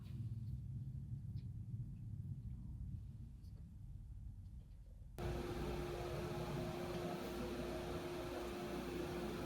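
A wood lathe spinning at about 2,000 rpm while turning a maple burl and rosewood lidded box gives a continuous low rumbling hum that abruptly shifts to a brighter, broader whir about halfway through.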